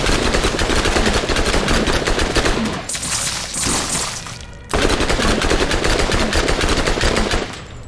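Rapid automatic gunfire in Borderlands rattles loudly against a spider ant, long sustained bursts broken by a brief pause with a whooshing effect before the firing resumes.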